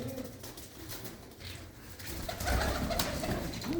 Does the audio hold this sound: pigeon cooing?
yes